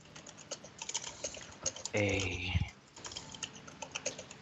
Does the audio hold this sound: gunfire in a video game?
no